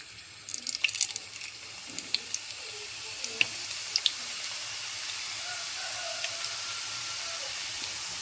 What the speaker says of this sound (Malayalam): എണ്ണ തിളച്ചിട്ടുണ്ട്, കറക്റ്റ് പാകമാണ്. നമുക്കതിലേക്ക് ഇത് പീച്ച് കൊടുക്കാം.